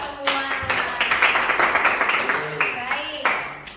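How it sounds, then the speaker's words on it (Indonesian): A classroom of students claps together, a burst of uneven hand claps running underneath a person talking over it, moderately loud and close. "tepuk tangan untuk kita semua"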